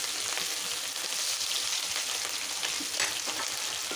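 Hot oil sizzles steadily in a pan with onion, garlic and ginger paste for a potato dal, a dense continuous crackle with small pops and occasional stirring, close and even, no voices.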